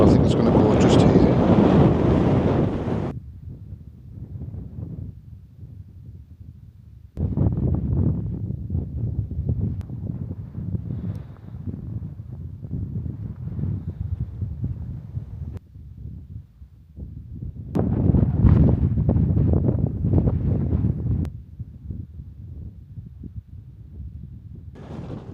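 Wind buffeting a wild campsite beside Skiddaw in the Lake District, gusts roaring in loud surges then easing to a lower rumble, rising and falling several times, heard up close on the microphone.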